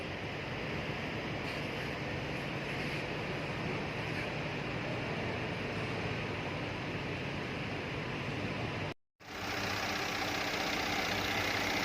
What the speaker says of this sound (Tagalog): V6 engine.